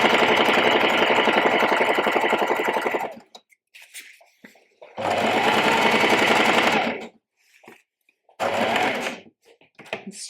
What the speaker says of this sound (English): going back and sewing a line right below the one that you just did